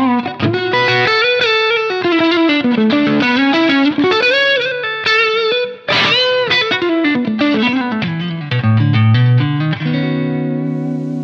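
Electric guitar through an Analog Man Prince of Tone overdrive plays a gritty, sustained melodic phrase with bends, loud and up close, ending on a held note.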